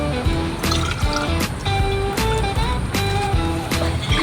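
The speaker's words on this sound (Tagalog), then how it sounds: "bawasan lang natin ng kaunting tubig." Water is poured out of a plastic fish bag holding assorted platy fish, giving a loud, close splashing and dripping with some knocks and handling noise throughout.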